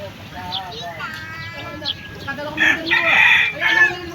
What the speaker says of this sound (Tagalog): Yan po ang maingay na manok, tigtalaok.